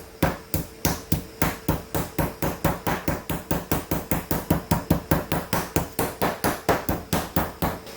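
A meat mallet pounds chicken repeatedly in a quick, steady rhythm, about four sharp thuds per second, loud and close with no talking.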